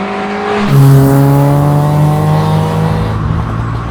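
A Volkswagen Golf GTI 1800 Mk1 engine pulls hard and loud from close range, its pitch climbing and then settling after a gear change.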